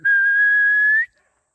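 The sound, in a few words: person whistling to call chickens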